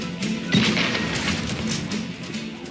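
A video game explosion in Just Cause 3 gives a short, heavy boom with a crashing burst near the start, followed by rumbling debris and game noise.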